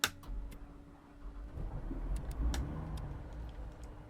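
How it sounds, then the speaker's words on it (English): A Vans RV10 light aircraft engine starts up in Microsoft Flight Simulator with a few ticking clicks, then a low cranking rumble that swells into a steady, moderately loud engine drone, with no talking. "we'll go for our engine start now"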